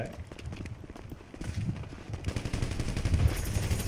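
Bursts of AK assault rifle fire crackle in GTA 5, the rapid shots growing louder and denser toward the end, mixed with running footsteps and game noise.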